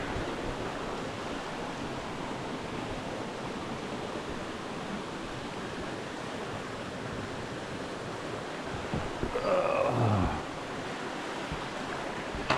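A brook flows in a steady rushing wash of water, even and continuous, with a brief louder splash or knock near the end.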